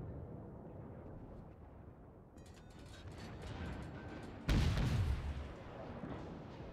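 Heavy shell hits striking a low-health destroyer during a World of Warships battle, a rumbling mechanical din swelling into a sudden loud, deep impact burst near the end.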